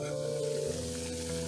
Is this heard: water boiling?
yes